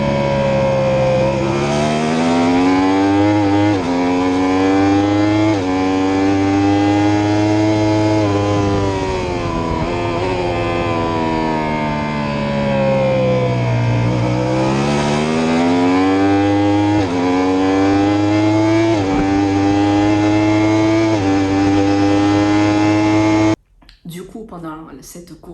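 Motorcycle racing at the Alcarras circuit, the bike accelerating hard under a loud, sustained engine note that rises and falls in pitch through gear changes, cutting off abruptly near the end.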